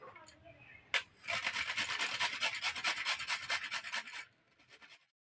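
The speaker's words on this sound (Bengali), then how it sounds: "এই গাজরটা আমি ঘষণের সাহায্যে এই যে এইভাবে আমি ঘষে নেব।" Carrots being rubbed against a hand grater in a village kitchen make a steady rasping scrape, close and fairly loud, for several seconds after a brief knock, while a voice talks quietly at the start.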